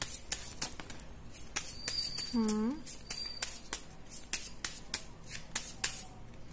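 Tarot cards are shuffled during a Hindi-language reading, giving repeated sharp riffling and snapping clicks close by in an irregular rhythm, with a voice briefly talking over the shuffling.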